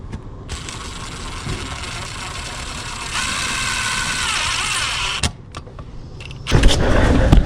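A powered driver sinks long wood screws to fix a Tesla charging box in place, with a motor whine that climbs into a sustained whir, a brief pause, then a louder final burst.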